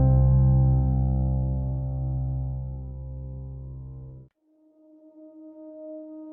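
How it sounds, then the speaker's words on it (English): A war horn sound effect: one deep, brassy, sustained blast that holds for about four seconds and then cuts to a softer, thinner lingering tone. No one speaks. "It's the sound of a war horn echoing across time."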